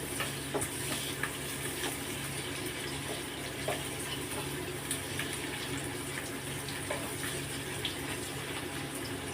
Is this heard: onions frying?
yes